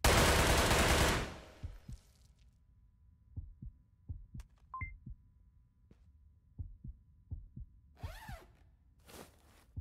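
Full-auto gunfire in the VR shooter Ghosts of Tabor, with sharp shots in an irregular stream of bursts after a loud opening wash of noise, fairly near and with no talking.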